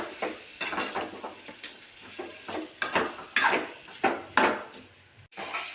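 Cucumber vegetable is sautéed and stirred in a pan, a spoon scraping and clanking against the metal in irregular strokes over a faint background sizzle, with no one speaking.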